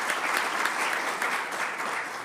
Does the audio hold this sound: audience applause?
yes